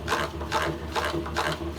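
Hand-cranked honey extractor spinning frames at an even speed, a steady rhythmic whooshing rub repeating about twice a second, moderately close and alone.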